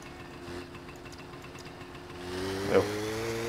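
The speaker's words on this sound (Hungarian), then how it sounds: "Ez egyébként ez a motor, ez rohadt autentikus" In the video game My Summer Car, a car engine idles with a steady low hum, then its pitch rises a little as it revs up briefly before settling into a firmer running tone.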